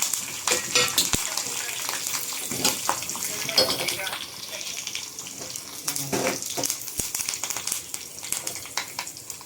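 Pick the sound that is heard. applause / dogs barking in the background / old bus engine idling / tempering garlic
tempering garlic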